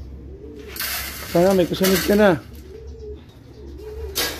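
Racing pigeons cooing on arrival in a loft after a 380 km race, several throaty rolling coos close by, with a person speaking over them amid faint clatter.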